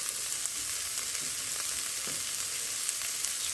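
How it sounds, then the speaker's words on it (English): Diced onion frying in a pan for a smoked sausage pierogi casserole, a close, even sizzle with faint occasional pops and stirring, steady throughout and free of speech. "First step will be to get the onion cooking."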